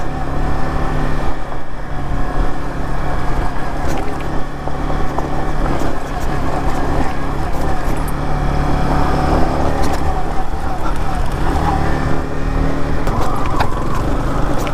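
A motorbike rides off-road on a dirt trail, its engine droning loud and close throughout with constant rumbling and wind noise.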